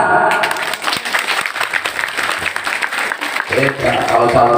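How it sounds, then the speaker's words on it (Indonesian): Audience applause at an Indonesian religious gathering, a dense wash of clapping that carries on steadily throughout, with a louder, fuller swell near the end. "Tepuk tangan."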